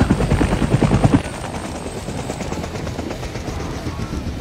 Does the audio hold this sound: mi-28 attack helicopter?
yes